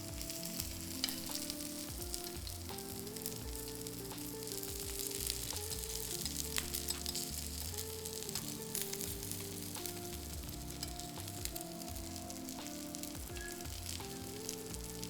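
Food cooking in a pan on a slow flame until its layers turn crisp, producing a faint continuous sizzle with small crackles throughout, under a steady low hum of kitchen noise; no talking.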